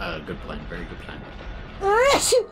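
A single sharp sneeze bursts out near the end, right after a man's spoken remark, loud and close.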